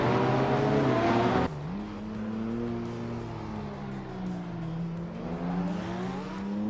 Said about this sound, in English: Amy is leading the race in a 1987 Rough CTR Yellowbird, and she's holding a solid pace.